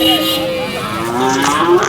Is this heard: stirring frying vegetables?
no